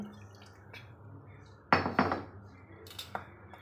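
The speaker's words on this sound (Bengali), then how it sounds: "এর মধ্যে একটু জল দিয়ে এটা মিক্স করে নেব" A spoon stirs custard powder into water in a bowl, giving a few sharp scraping clinks and knocks against the dish, with a quieter lead-in before the stirring starts.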